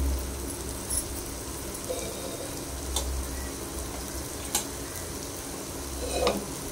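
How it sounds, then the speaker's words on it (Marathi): Masala sautéing in a pan for Maharashtrian dry mutton sukka, with steady low sizzling and a few sharp scraping strokes of the spoon as it is stirred, alone without talk. "मसाला परतून घेऊया।"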